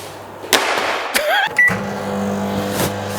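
A microwave oven hums steadily after a few clicks and a short beep, close by in a home kitchen, alone without talk.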